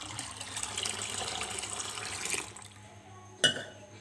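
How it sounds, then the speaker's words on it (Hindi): Water poured in a thin stream into cream while making homemade butter, a soft continuous trickle that stops after a couple of seconds, followed by a single sharp clink of a glass or bowl. "अब एक गिलास मुझे और डालना है। वही स्टेप, यानी कि आपने धार बांध के पानी डालना।"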